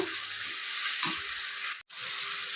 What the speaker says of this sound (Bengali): একটু জল দিয়ে দেব মশলাটা কষানোর জন্য